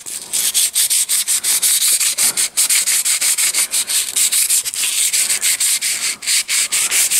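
Steady, continuous abrasive rubbing as a burr is worked off an outboard motor's lower-unit shaft, loud and close with brief rhythmic pauses between strokes, no talking.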